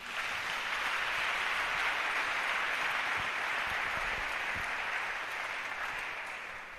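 A church congregation claps and applauds continuously through a sermon service, a dense sustained ovation that fills the whole stretch and fades slightly at the end, with no talking over it.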